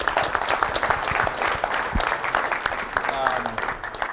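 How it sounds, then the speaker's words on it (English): An audience applauds with steady, dense clapping throughout, with a few voices rising over the crowd. "let's give Reid another round of applause."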